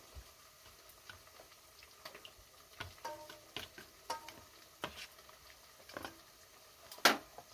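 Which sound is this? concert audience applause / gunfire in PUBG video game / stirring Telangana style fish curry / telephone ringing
stirring Telangana style fish curry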